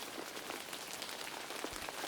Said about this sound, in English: More raindrops fell and landed softly on the koalas' upturned faces.